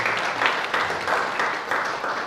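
Steady, dense applause from an audience at the official launch of an accountants' club in Senegal, continuous throughout with slight surges and no clear talk over it.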